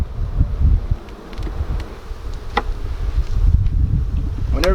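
Bees buzz thickly around an opened hive on a farm, a steady close hum with occasional individual insects zipping past the microphone.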